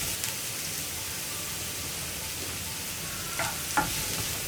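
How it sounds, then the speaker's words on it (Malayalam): Sliced onions and green chillies fry in a pan with a steady, close sizzle, and a spoon occasionally scrapes and clinks as they are stirred. "ഇനി സവോള ഒന്ന് ട്രാൻസ്പെറന്റ് ആയി വരുന്നത് വരെ നമ്മളൊന്ന് ഇളക്കി കൊടുക്കുക."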